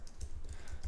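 Quick computer keyboard typing during interface design work, a short burst of several light, close key clicks in an uneven rhythm against quiet room tone.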